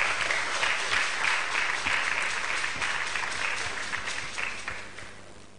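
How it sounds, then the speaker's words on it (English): Applause from the audience at an arts and book festival, a full, steady burst of clapping that gradually thins and fades toward the end. "Can we give her a round of applause, please?"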